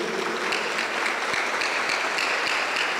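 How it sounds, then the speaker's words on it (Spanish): Congregation applauding inside a Pentecostal church, a continuous, even patter of many hands clapping at moderate loudness with no voices over it. "Voy a pedir un fuerte aplauso para el Señor Jesús."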